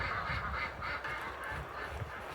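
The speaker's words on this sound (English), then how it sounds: "They're quacking." Several ducks quack repeatedly at close range, a busy overlapping chorus of nasal calls in a steady rhythm over a noisy background.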